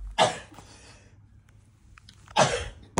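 Two sharp sneezes, a few seconds apart, each a sudden loud burst that fades quickly into quiet room tone.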